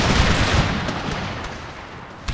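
Grenadier musket volleys in the Empire: Total War battle game, a dense crackling fusillade of black-powder shots at point-blank range with a sharp loud report near the end.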